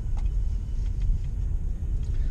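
A Jeep Compass Limited AWD with a 1.4 170 hp engine drives along, heard as a steady low rumble of road and engine noise from inside the car with no talk.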